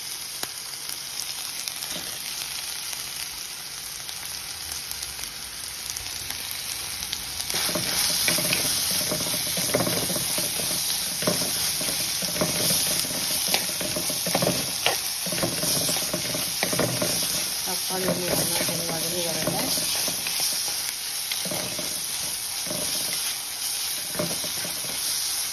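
Chopped tomatoes sizzle and fry in a hot pan while a spoon stirs them, the steady crackling hiss swelling louder partway through with scraping stirring strokes, no voices.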